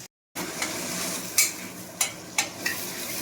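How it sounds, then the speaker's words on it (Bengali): Silver carp pieces fry in a pan with a continuous close sizzle, broken by a few sharp bursts of spattering crackle at irregular moments after a brief initial silence. "ভালো করে এটাকে ভেজে নেব।"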